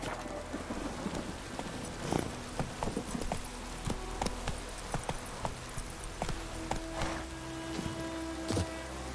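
Roach the horse clip-clops along in The Witcher 3, a steady rhythm of hoofbeats close by over a rainy, stormy background, with no talking.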